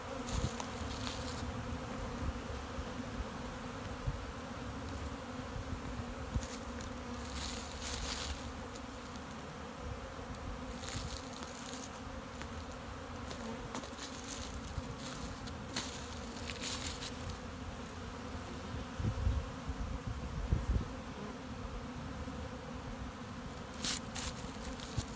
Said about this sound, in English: These are all over the pollen feeder, which I'm going to reload, and the sugar syrup feeder.